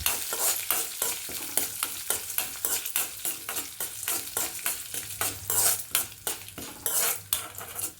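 Black pepper and urad dal dry roast in a pan, stirred briskly with a metal spoon, giving a steady run of close scraping and rattling strokes with a light sizzle underneath.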